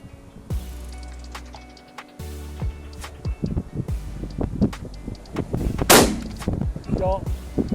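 Shotgun blasts crack out during pigeon shooting in high winds, several sharp shots spread over a few seconds, loud and near, with gusting wind buffeting the microphone.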